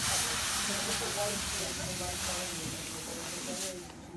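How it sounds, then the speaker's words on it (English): A hot iron pressed onto a water-soaked towel to steam off old furniture veneer gives a steady, loud hiss that holds throughout and fades slightly toward the end. "So you're just using hot steam and a hot iron on the top"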